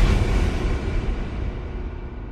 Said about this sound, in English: You know that one sound? I like to call it the horror movie boom.